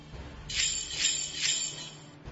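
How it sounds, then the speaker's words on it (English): Christmas bells jingle in three soft, shimmering swells, bright and clear, with no talking. "you'll hear Christmas bells that sound like this."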